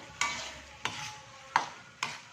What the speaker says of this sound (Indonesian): Kita masak dulu kentangnya.